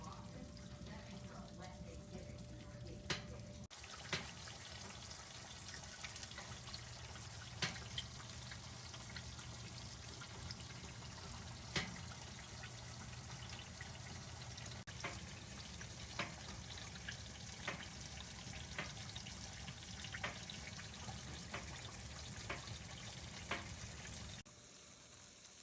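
Macaroni and cheese bubbling in a hot oven gives a steady, low sizzle with scattered soft pops and crackles that carries on evenly throughout.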